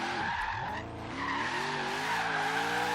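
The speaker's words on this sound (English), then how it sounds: "Hit that e-brake" A Ford Mustang drifts in Forza Horizon 3 as the e-brake is yanked, tires screeching in a sustained squeal over a high revving engine whose pitch dips and climbs, loud and close with no talk.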